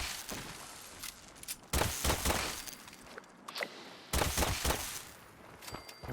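Gunfire in Fallout 76 cracks out in a few sharp, loud bursts during headshots, separated by quieter gaps with lighter clicks and impacts.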